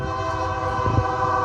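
A train passing close behind someone posing for a selfie, a steady loud rumble of rail noise with a horn-like tonal drone running throughout.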